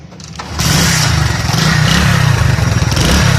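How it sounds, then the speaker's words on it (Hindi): A motorcycle engine starts and settles into a loud, close, chugging idle through its silencer exhaust, a steady throbbing rumble with no talk over it. "सबसे पहले हम आपको स्टार्ट करके चेक कराते हैं कि इसका आवाज़ सिलेंसर का कैसे है।"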